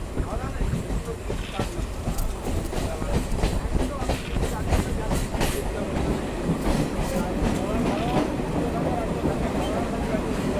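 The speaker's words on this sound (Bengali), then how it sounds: "আমাদের ট্রেনটা এখন এসে পৌঁছালো হচ্ছে কলকাতা রেলওয়ে স্টেশনে" A train rumbles into Kolkata railway station with a steady clatter of wheels on rails, loud and close, while a voice talks over the noise.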